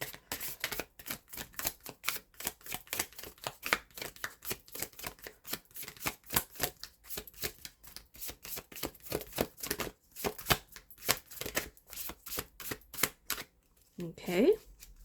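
A tarot deck shuffled by hand in steady, rapid riffles and card slaps, close and crisp, repeating for many seconds, with a few soft handling sounds near the end.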